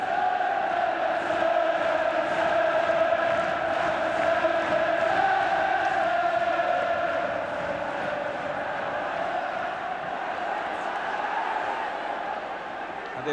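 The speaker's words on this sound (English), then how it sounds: "Everton being roared forward." A football crowd roars steadily at Everton v Bayern Munich in a Cup Winners' Cup semi-final, a dense wall of chanting and cheering that swells then eases slightly, with a commentator talking over it.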